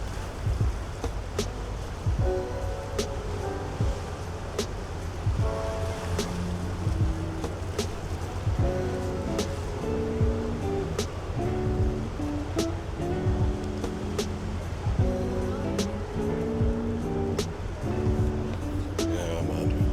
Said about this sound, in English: Listen to this water splashing